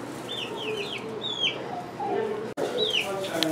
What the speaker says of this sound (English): Kept hearing all the chirps going on over here.